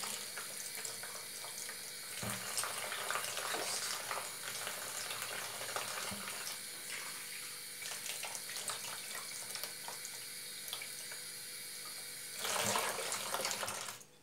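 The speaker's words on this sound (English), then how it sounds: "you can just wash it inside like so, making sure that all the leaves are washed" Running tap water splashes steadily over courgette flowers rinsed by hand in a kitchen sink, a continuous close hiss that surges louder near the end.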